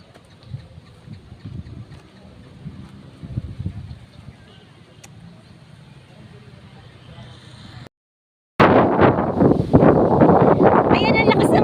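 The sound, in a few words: strong wind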